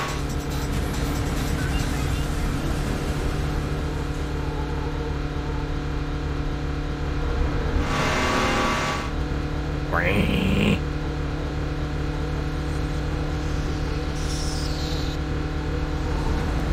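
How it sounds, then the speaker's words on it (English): A front-engined Porsche 944 race car in Need for Speed: Porsche Unleashed drones steadily and muffled throughout, its engine note staying constant while a person talks over it. "the car is very silenced, because it's a front engine, unlike the other cars, which are rear engine."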